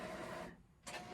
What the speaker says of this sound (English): the faint sounds of our printer